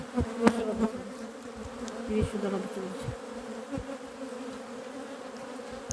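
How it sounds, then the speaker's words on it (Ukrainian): Honeybees buzz in a thick, continuous hum around the hives, with individual insects droning past up close while someone talks briefly. "Бджоли валом."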